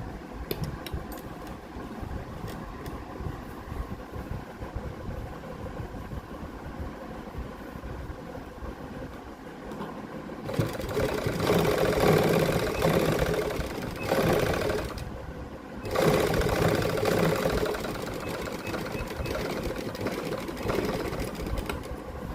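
A sewing machine stitches pleats into a lined suit, a steady whirring run that grows louder and busier midway, pauses briefly, then resumes at full speed.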